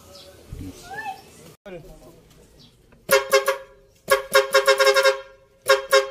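A truck air horn blares in several loud, buzzy honks, a single blast followed by a quick series of short toots, after quieter background noise.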